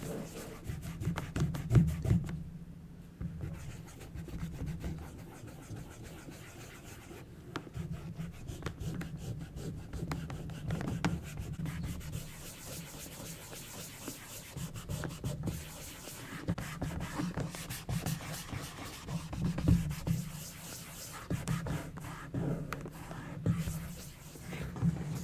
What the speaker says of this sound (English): I was scraping wax off until my fingers got really tired.